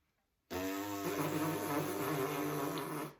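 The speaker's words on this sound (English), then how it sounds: "with the mouthpiece, we buzz our lips" Lips buzz into a sackbut's brass mouthpiece, a steady raspy nasal drone held for a few seconds, close and alone.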